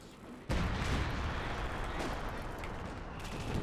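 In the Company of Heroes video game, artillery fires smoke shells: a sudden heavy blast bursts in, then a loud rumbling barrage of booms carries on without pause.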